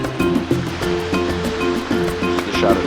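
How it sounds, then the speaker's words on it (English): Ocean surf on a Florida beach makes a loud, close, steady roar with a rhythmic pulsing undertone throughout. "the beach here in Florida"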